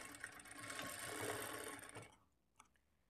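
A sewing machine stitching a plain blouse whirs in a steady, fast mechanical run for about two seconds, then stops, leaving a faint click in the quiet.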